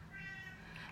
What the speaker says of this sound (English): I'm sorry for the cat crying in the background.